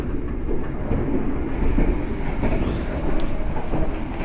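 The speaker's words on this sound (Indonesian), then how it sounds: "aku lagi di kereta ini" Steady, loud rumble inside a moving commuter train near Cikarang, with dense low-frequency rolling noise and faint rhythmic clicks from the wheels on the track, and no voices heard.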